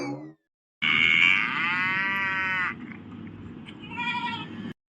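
Young goats bleat in a loud, wavering run of cries close by at a farm, followed by a second, softer burst of bleating after a brief pause.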